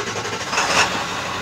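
A 2002 Ford F-250 with a 7.3 Powerstroke diesel idles just after starting, a steady, fairly loud mechanical clatter with a faint rise in the middle.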